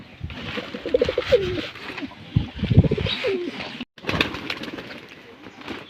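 Pigeons gathered to eat scattered grain coo repeatedly close by, soft throaty calls over rustling and scuffling, with a faint murmur of voices at times.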